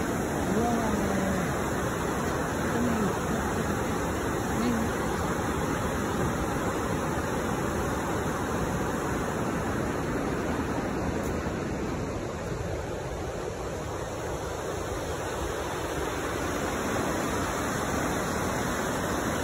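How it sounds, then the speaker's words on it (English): Twin Falls near Smithers, British Columbia, roars in a constant, dense rush of falling water, steady and unbroken throughout. "That's the waterfall right there."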